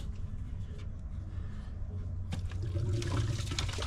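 Coolant gushes from the upper water pump hose of a Mercedes CL55 with the M113K engine into a bucket, a soft trickle that swells into a fuller pour partway through, fairly quiet and close, with no voices.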